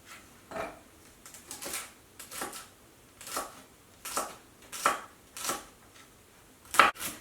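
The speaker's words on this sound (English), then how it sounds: "we're going to need to chop up a half a cup of celery" Celery being chopped with a knife on a cutting board in a home kitchen: a run of sharp, close knife strikes at an uneven pace, some in quick pairs, each standing alone against a quiet background.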